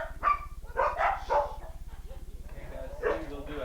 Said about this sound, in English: it's your little black dog friend